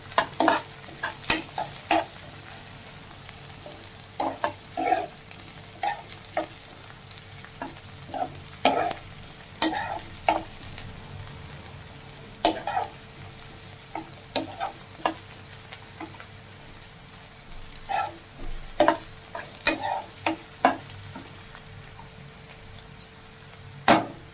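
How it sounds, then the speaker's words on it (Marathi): Capsicum sautéed over high heat in a pan for egg rice, with a soft steady sizzle broken by frequent sharp clicks and scrapes of a spatula stirring, close and alone with no talk. "शिमला मिरची चांगली परतून घेऊया."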